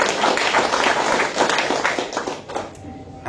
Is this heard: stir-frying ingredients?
no